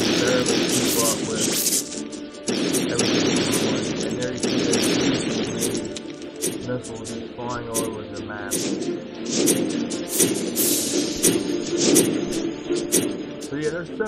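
Explosions and crashing blasts from a large battle in the video game Castle Clash keep rolling on loud and dense, with no pause across the whole stretch.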